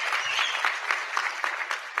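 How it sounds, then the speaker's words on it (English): Audience applause at a live podcast taping, a dense, steady patter of many hands clapping at moderate volume throughout, with a few sharper individual claps standing out and no voices over it. "Round of applause."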